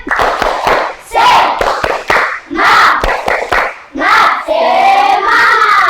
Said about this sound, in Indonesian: kita lakukan dulu tepuk semangat